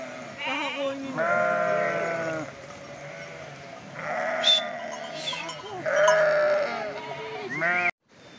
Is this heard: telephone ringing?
no